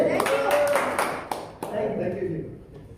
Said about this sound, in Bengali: ভাই লিডারের জন্য করতালি হবে